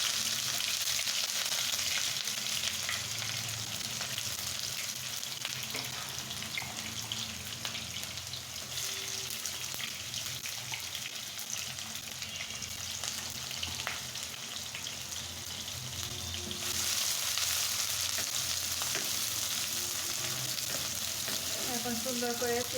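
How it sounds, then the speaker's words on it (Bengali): Chopped onions fry in hot oil for a fish dish, giving a loud, dense, continuous sizzle close up that lasts throughout and swells slightly near the end. "এখন সুন্দর করে পেঁয়াজটাকে ভেজে নেব"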